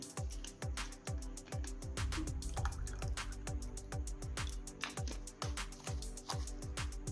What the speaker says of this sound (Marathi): सरबत ओतून झाल्यानंतर थंडगार पाणी ओतणार आहे त्याच्यामध्ये गार पाणी